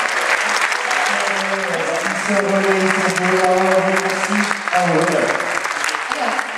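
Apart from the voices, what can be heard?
audience applause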